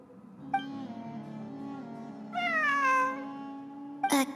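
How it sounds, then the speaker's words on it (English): A cat meows several times at close range: a long drawn-out cry, then a rising, wavering meow, and a sharp short call at the end, with no talk over it. "I'm not hearing things. It really is a cat."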